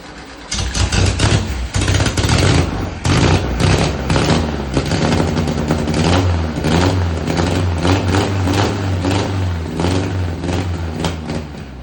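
A VW Beetle engine, freshly installed and not yet pulling fuel properly, cranks and catches with loud, uneven revs and sputters, then keeps running roughly and close by for several seconds.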